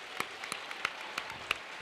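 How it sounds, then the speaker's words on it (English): Spectators at the WJPC 2023 individual and pairs finals give a faint round of applause, scattered distinct claps from a sparse crowd heard at a distance. "a round of applause to the spectators who come to watch this as well"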